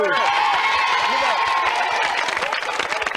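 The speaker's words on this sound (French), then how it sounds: "Alors on s'applaudit, hein, allez." Children applauding in a French TV studio on a 1992 Disney Club broadcast, a dense, loud wash of clapping and crowd noise that carries throughout, with a voice chattering over it.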